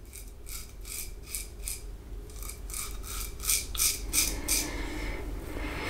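Close scraping of a Tritok slant safety razor across stubble during a traditional wet shave, a series of short rasping strokes in quick bursts, steady and alone without talk.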